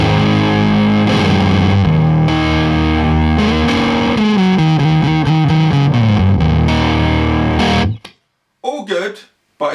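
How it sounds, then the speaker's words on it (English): An electric guitar played through a Fuzz Face fuzz pedal gives thick, heavily distorted sustained notes and bending chords, loud and saturated, before stopping with a couple of short bursts afterward. "Now if I kick in the pedal, I'm going to have a lot of fuzz goodness."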